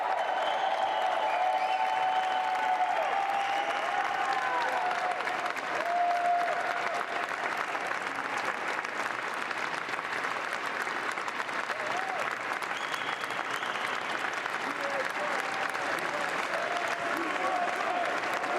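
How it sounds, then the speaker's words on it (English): Sustained applause from a large standing crowd in an overflow room at a presidential inauguration, dense and even throughout, a steady wash of clapping lasting nearly twenty seconds with faint voices mixed in. "a crowd watches Trump on a monitor. They stand applauding."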